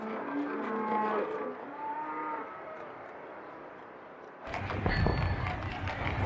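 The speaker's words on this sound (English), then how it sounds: "The ramshackle carts were drawn by cows." Cows drawing ramshackle farm carts in wartime Germany low in drawn-out tones at a moderate distance, followed near the end by a sudden burst of louder, rough rumbling noise.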